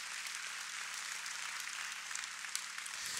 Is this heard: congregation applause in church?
yes